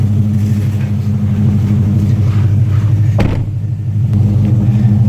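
Cammed Cobra Jet F150 truck engine idling up close, a loud, deep, lumpy rumble with a steady choppy pulse and one brief sharp blip partway through.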